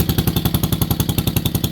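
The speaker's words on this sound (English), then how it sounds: "I got it idling kind of fast right now to charge the battery." A 1973 Wheel Horse tractor engine idles fast to charge its battery, a loud, steady, rapid chugging pulse with metallic clatter, close and alone.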